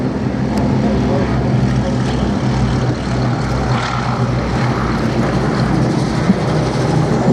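WWII-era aircraft, a Blenheim alongside Spitfires and a Hurricane, roar steadily on takeoff, a loud, dense propeller-engine drone that holds without a break throughout.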